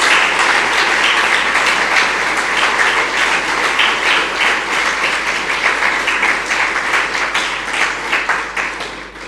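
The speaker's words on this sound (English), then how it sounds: "please join me in giving Mr. Stiell a warm, rousing round of applause" A lecture-hall audience at a memorial lecture gives a warm, sustained round of applause, dense and fairly close, tapering off gradually toward the end.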